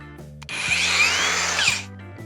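Procraft AG125A cordless angle grinder spinning up from a steady low motor hum into a loud, high whining run for about a second and a half, then winding back down to the idle hum, with a kickback control feature in use.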